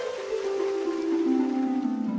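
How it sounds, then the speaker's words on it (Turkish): Rain falls in a cartoon scene, a soft steady patter under a gently descending musical tone, continuous and moderately loud with no speech. "Yağmur yağıyor."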